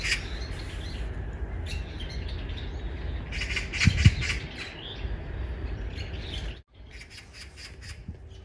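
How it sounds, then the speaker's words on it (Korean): A magpie squawks outdoors on an autumn path, its harsh calls rising over steady background noise, with a louder burst of cawing partway through. "저기 까치가 보입니다"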